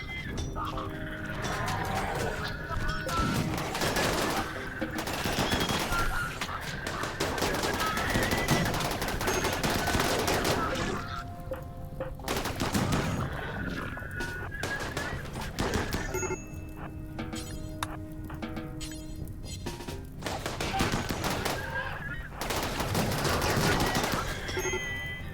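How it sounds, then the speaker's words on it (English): Gunfire against mechs in the video game RimWorld, long loud bursts of rapid automatic shots, some volleys overlapping, broken by brief lulls over about twenty-five seconds. "start firing on the mechs"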